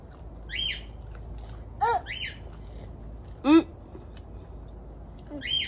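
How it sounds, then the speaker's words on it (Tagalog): A crow calls outdoors in several short, sharp squawks spaced a second or two apart, with a faint background hum and no clear talk during the calls. "May ibon."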